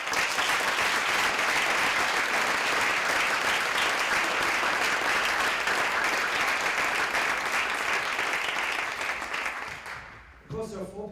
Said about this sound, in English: but I think they all need a round of applause.